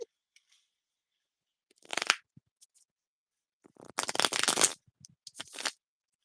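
Tarot cards being shuffled by hand, quiet riffling bursts separated by silence, with a longer flurry near the end and a few short soft taps.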